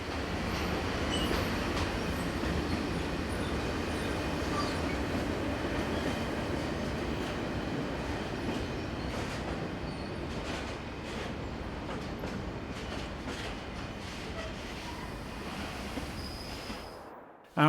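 A Swiss Re 6/6 Class 620 electric locomotive arriving at Göschenen with a freight train, its wagons producing a steady rolling rumble and wheel clatter at moderate distance, with a faint squeal before fading out.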